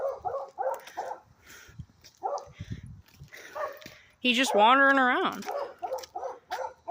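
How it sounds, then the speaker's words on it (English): A wandering dog barks repeatedly at nearby walkers, short loud barks mixed with one long drawn-out howling yelp, while someone talks in between. "This dog's barking at us."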